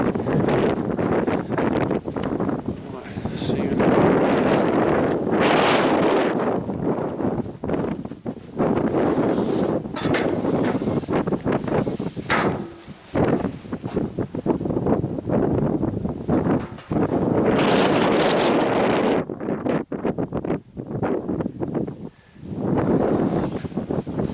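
Outdoor wind gusts buffet the microphone in loud, uneven bursts of rumbling noise that rise and fall throughout, with no voices.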